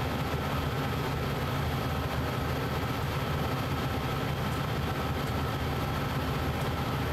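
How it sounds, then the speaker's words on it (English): A heavy diesel locomotive labours up a steep grade in Train Sim World 2, a loud, dense, unbroken engine roar and rumble that holds steady without pauses or voices. "you can hear this locomotive struggle"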